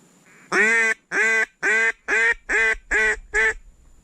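Seven loud, nasal quacks in a steady, evenly spaced series, each call drawn out and ringing close to the listener.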